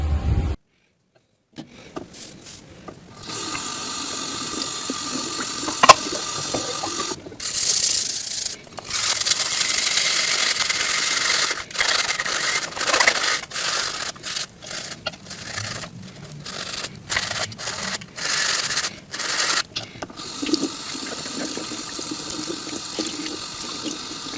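Headlight cover from a VAZ Zhiguli car being washed with a small brush under running water, with irregular scrubbing strokes and splashing bursts over a steady tap flow, loud and close.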